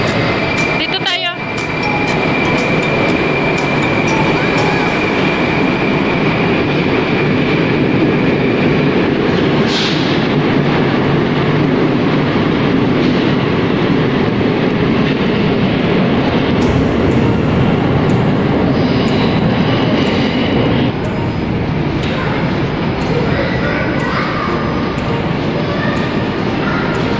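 Russian metro train running underground, a loud continuous rumble and rail roar with clattering bursts and brief squeals, close by and unbroken throughout.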